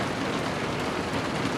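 Steady rain falling outside a porch under construction, a dense, even hiss of drops with no breaks and no voices.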